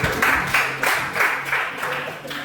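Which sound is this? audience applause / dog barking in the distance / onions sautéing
audience applause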